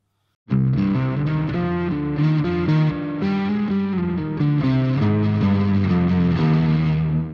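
Electric guitar played through a Space Echo tape-style delay effect on a Boss GX-100 processor, with sustained chords and melodic notes ringing steadily, with repeats trailing behind them, loud and continuous throughout, no talking.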